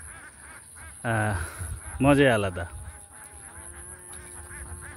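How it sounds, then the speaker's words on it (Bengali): Ducks on marsh water in a rural Bangladeshi wetland give two loud honking quacks close by, one after the other, with a person speaking briefly and faint background sound. "বিলের পানিতে হাঁস প্যাক প্যাক প্যাক প্যাক করছে"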